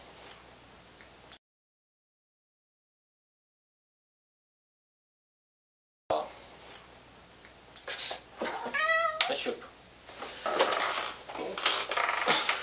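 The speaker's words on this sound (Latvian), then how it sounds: "Kaķis ir izaudzis, palicis dušīgāks, vai ne?" A grown cat meowing indoors: a clear wavering meow followed by further mewing and rustling movement, close and fairly loud after a stretch of silence.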